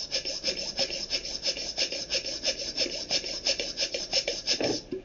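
A repaired bicycle pump is worked in rapid, even strokes, about twenty rhythmic rasping pushes in quick succession, close and moderately loud.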